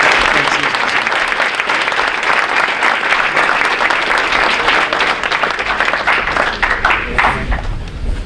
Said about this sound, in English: how about another round of applause for these girls?